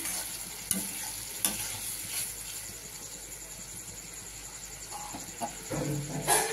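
Onions cooking in a pan with a little water, giving a soft, steady sizzle with occasional stirring scrapes and clinks, fairly quiet and close, with no voices.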